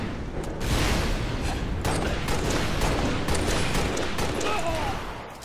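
Dense, continuous gunfire and explosions from the Halo Reach multiplayer match, Big Team Battle Slayer on the Hemorrhage map, with vehicles like a Mongoose and Warthog nearby; loud, sustained bursts layered throughout with little pause.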